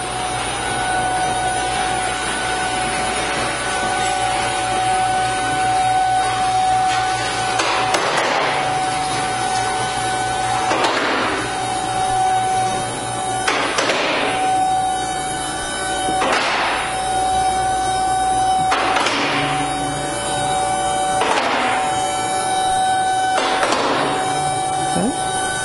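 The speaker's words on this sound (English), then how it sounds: "We're gonna take the Nissan, put it up on the lift, and check the underbody." Mechanical whine and hum of a car lift raising a 1986 Nissan 300ZX in a garage, steady and fairly loud, with repeated whooshing swells and clunks throughout.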